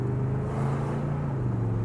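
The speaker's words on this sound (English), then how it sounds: "you can just smash on the gas" A 1968 Chevrolet Caprice Estate Wagon pulls hard under throttle, its engine a steady, loud low rumble with a strong droning tone held throughout, no voices over it.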